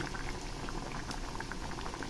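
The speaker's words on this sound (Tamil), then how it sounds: "இப்போ தண்ணி அலசி ஊற்றிக்கலாம்." Rinse water poured into a mixer grinder jar after grinding coconut, cashews and cardamom, a faint continuous bubbling, gurgling trickle with no talk.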